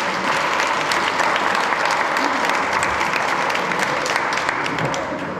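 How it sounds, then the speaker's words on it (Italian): Loud, continuous applause fills a municipal council chamber in Santa Flavia for the newly elected council, a dense sustained clapping of many hands that barely fades before ending. "Un applauso al Consiglio"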